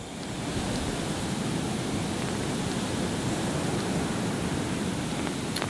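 Loud, steady roar of heavy surf breaking on Tarangotong beach in Ilocos Sur, a continuous wash of crashing water with no voices, close and full.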